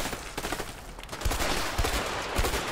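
Rapid bursts of gunfire in the video game A Way Out crackle back and forth in a dense, loud exchange, with heavy low thumps punctuating the volley and no talking.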